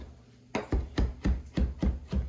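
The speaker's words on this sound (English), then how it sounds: "Let me just cut that last piece of basil up." A knife chops basil on a cutting board in seven steady thumps, close and evenly paced, with no talking.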